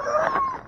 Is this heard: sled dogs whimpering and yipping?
yes